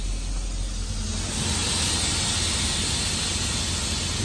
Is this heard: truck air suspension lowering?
yes